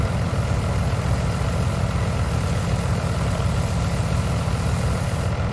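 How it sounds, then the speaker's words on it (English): Fendt tractor engine idling in Farming Simulator 19, a steady low diesel rumble that holds constant and fairly loud throughout with no talk. "I am liking this little Fendt tractor as well."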